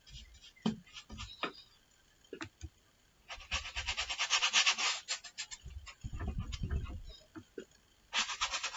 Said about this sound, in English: using another large brush, scraping the paint into the canvas